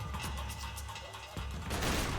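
Rapid blind-fire gunshots in the Max Payne 3 video game, dense and loud, a continuous rattling burst with heavy impacts that swells again near the end.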